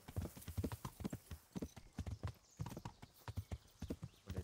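Horse hooves clip-clop at a brisk trot in Kingdom Come: Deliverance, a steady rhythmic stream of close, loud hoofbeats.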